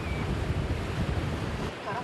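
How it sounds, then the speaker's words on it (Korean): Rough sea heard from a fishing boat out catching conger eels, a broad steady wash of waves and wind rushing close to the microphone with no clear breaks. "파도가 심상치 않습니다."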